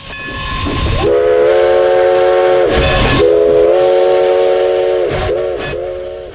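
A passenger train's horn sounds in several sustained blasts, loud and near, over rumbling rail noise as the train passes.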